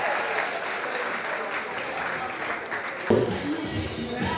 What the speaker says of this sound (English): Evelyn Champagne, please give a round of applause